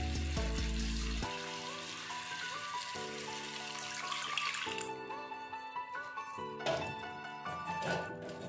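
Hot water pours into a pan of frying masala, a loud initial burst of hissing and splashing that settles into bubbling and clinking, fairly close with no voices.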